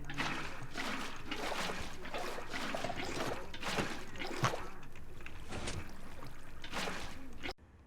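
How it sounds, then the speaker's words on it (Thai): Water poured from a bucket in Minecraft while building a fishing farm, heard as a steady, fairly loud sloshing and trickling wash that runs without a break and then cuts off abruptly at the end. "ฉะนั้นก็วางน้ำเทน้ำตรงนี้เลยฮะ เทน้ำให้เต็มเลย"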